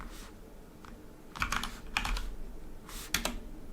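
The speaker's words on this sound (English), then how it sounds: "Sorry if you hear the tapping of the keyboard." Computer keyboard keys being tapped in short bursts of quick clicks with pauses between them, close and fairly quiet, with no talking.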